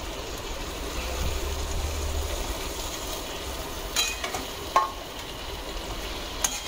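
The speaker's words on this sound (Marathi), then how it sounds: "आणि ही वांगी सुद्धा ह्याच्यामध्ये छान परतून घ्यायची" Stuffed brinjals stir-fried in a pan for bharli wangi give a steady, even sizzle, with a few faint utensil knocks near the end and no voices.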